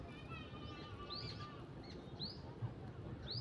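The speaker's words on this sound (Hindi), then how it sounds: "यहाँ के चिड़िया का आवाज़ सुनिए" Birds calling in a mountain jungle at a campsite, a few faint, distant rising whistles and chirps repeated at intervals over a steady outdoor hiss.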